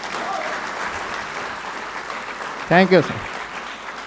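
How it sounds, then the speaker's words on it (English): An audience at an international training programme ceremony on seed education gives a steady, sustained round of applause that fills the room throughout, with someone briefly speaking a few words over it. "Give a big round of applause for IPE."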